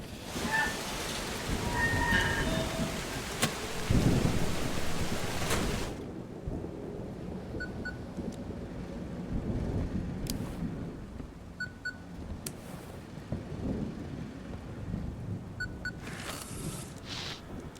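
A thunderstorm in the Static Dread: The Lighthouse game: a loud, rolling thunder rumble over heavy rain, then the storm settles into quieter steady rainfall with occasional softer crackles and faint repeating tones.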